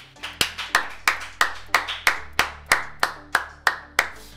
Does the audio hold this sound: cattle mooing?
no